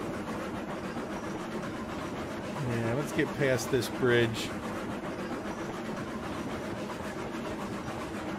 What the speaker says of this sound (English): let me drive the train past the bridge